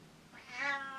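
A pet cat lets out a single soft, rising meow indoors, brief and fairly faint but clearly audible, with no talking over it.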